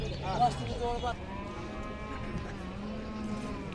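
A Khillar cow at a cattle market lets out a loud, drawn-out moo that tapers off, with faint market chatter and background noise behind it.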